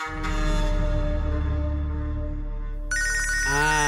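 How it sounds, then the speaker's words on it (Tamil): A mobile phone ringtone ringing on an outgoing call, a bright repeating electronic melody that sounds loud and close, with a sustained low hum beneath and a shift to a different higher tone near the end. "ரிங் ஆகுது."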